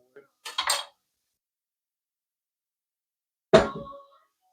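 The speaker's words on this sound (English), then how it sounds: "I'm gonna pour this sausage in there like that." Cooked sausage tumbles into a lasagna pan with a quick burst of metallic clatter, a pause of silence, then another scraping clank against the pan.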